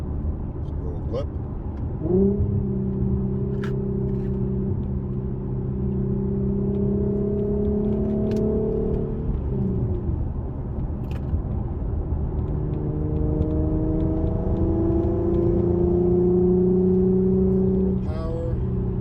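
Infiniti Q50 with VQ 3.7 engine and Invidia Gemini exhaust pulling hard under power, two long rising acceleration runs with a gear change between, smooth deep exhaust tone, loud and close throughout.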